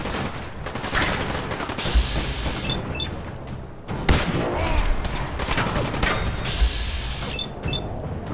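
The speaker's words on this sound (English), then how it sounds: "Is he shooting me in the back?" Gunfire from a supermutant in Fallout 4, bursts of rapid shots and thumping impacts repeating over several seconds, loud and close, with a continuous game soundscape underneath.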